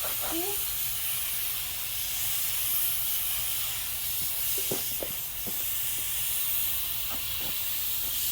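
Continuous hiss of spray paint being applied to a drift car, a steady close airy spray lasting throughout with a few faint clicks and short sounds over it.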